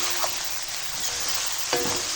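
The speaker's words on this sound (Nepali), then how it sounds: "नुन हालेर मजाले फ्राई गर्ने" Goat meat sizzles steadily in a hot pan with salt, a constant frying hiss with a few soft scraping stirs.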